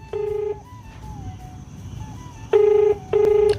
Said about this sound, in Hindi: हमारा फ़ोन ही नहीं उठा रहा यार